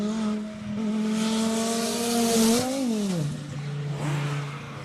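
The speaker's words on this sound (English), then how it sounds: "Normally aspirated 6-cylinder, sounding spectacular." A normally aspirated six-cylinder BMW E36 race car at speed during a classic car race day in Cape Town, its loud engine note rising and falling through gear changes, with a sharp drop as it passes and continuing rough revving.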